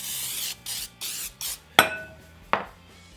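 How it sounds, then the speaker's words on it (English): Four short hissing bursts of cooking spray coat a baking dish one after another, then two sharp clinks of something striking the dish. "we're going to coat this with a cooking spray"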